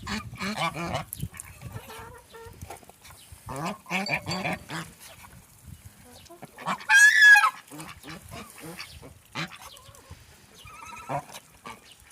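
Several loud honking, quacking calls from white ducks nearby, coming in irregular bursts with one especially loud honk midway, amid quieter rustling and shuffling.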